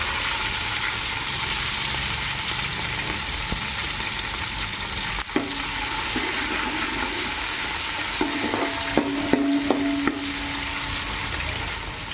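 Mustard seeds tempering in a pan for ugrani, a dense continuous sizzle with occasional stirring scrapes and a few sharp metallic taps of the spoon near the end.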